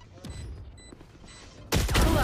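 Rapid gunfire in a competitive shooter match, with a few sharp shots early on and then a loud, dense burst near the end, heard under excited voices.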